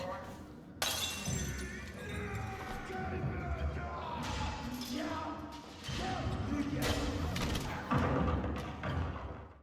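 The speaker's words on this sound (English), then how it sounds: "So let's try throwing a bottle next to the blood scrubber." A glass bottle thrown near a zombie in the Resident Evil Requiem video game shatters sharply, followed by dense game sounds, thuds and further impacts, with speech running over much of it.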